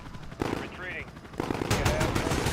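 Automatic and single gunshots from the first-person shooter Call of Duty: Modern Warfare campaign, firing in loud bursts among game sound effects, with a voice speaking faintly underneath.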